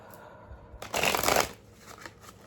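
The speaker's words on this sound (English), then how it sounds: "shuffle up our cards" A single quick riffle of shuffling tarot cards, a crisp fluttering burst lasting about half a second in a quiet room, followed by a few faint taps.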